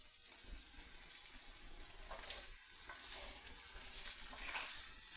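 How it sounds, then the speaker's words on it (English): Chicken stir fry with eggs sizzles in a pan, a faint, crackling hiss with occasional brighter spatters and stirring, quiet throughout. "it's starting to sizzle here."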